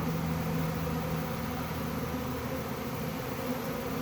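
A swarm of honey bees moving into an established hive makes a dense, continuous buzzing drone, close and steady, with no voices over it.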